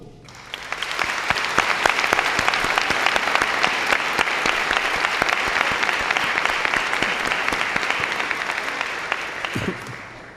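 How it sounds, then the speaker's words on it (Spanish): Sustained audience applause at a Constitution Day celebration in Úbeda, Spain, a dense wash of many hands clapping that swells quickly, holds steady and loud for several seconds, then tapers off near the end. "que para ello pido un aplauso."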